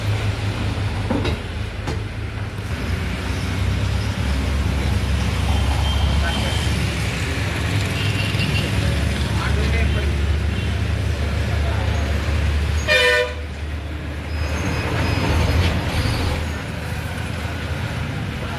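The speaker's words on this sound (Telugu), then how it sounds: "ఇగో కారు ఇగో" A car passes along a road with a short, clear horn toot partway through, over a steady low traffic rumble while people talk nearby.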